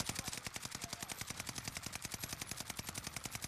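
An FN SCAR 17 rifle fires in a video game with no-recoil settings. It is one unbroken stream of rapid automatic shots in an even, fast rhythm at moderate loudness, with no talk over it.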